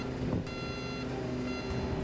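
A DRFF vehicle's warning alarm beeps in a regular repeating pattern while its outrigger jacks and slides fold in during automatic stowing, the beeps clear over a low mechanical hum.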